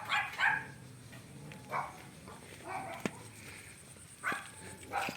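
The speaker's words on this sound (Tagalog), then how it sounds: "Ayun na naman ang mga asong gala." Stray dogs in a village barangay bark and yip in short scattered bursts, some louder and near, others fainter, with brief pauses between outbursts.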